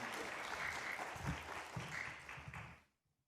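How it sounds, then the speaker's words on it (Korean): Loud applause from a church seminar audience, steady clapping for about three seconds before quickly fading to silence. "뜨겁게 박수로 환영해 주시기 바랍니다"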